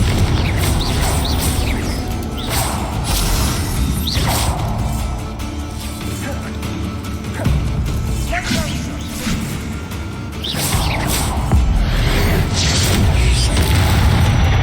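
Spell blasts in Hogwarts Legacy combat, repeated booming explosions and whooshing impacts over a continuous loud rumbling bed, a few heavy hits spaced several seconds apart.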